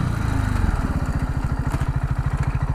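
A KTM Duke 690 R single-cylinder engine pulses in a rapid, loud, even thump under hard braking during a stoppie, close and unbroken, with no voices.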